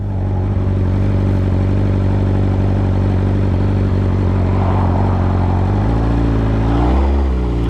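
A 2023 BMW S1000RR sportbike engine drones loudly and steadily at close range, with the pitch shifting near the end as the revs change.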